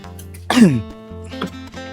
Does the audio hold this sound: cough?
yes